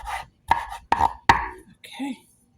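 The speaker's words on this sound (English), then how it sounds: "I like to make this nicely cut, thinly cut in." A knife cuts thin slices through home-grown tomatoes on a board, four crisp, evenly spaced cuts close by, followed by a softer handling sound at the end.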